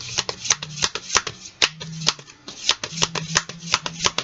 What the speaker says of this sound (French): On va tirer 3 cartes de cet oracle.